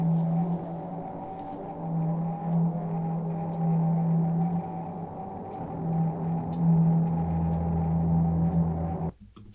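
Ancient Language, an atmospheric sample from the Low End Modular library, panned left and right: a dark, droning hum with a low tone that wavers and swells, moderately loud and sustained, then cutting off abruptly near the end.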